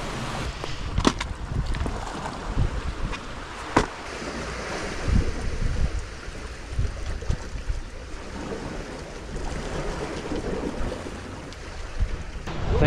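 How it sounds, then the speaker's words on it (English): Strong wind buffets the microphone at sea, with waves washing and a boat engine rumbling steadily underneath. "It's very, very windy today."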